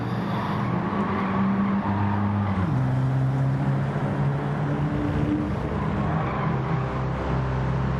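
Volkswagen Golf Mk1 race car in Gran Turismo 7: a steady, droning engine note held at high speed, the pitch dipping and stepping with gear changes, loud and continuous without speech.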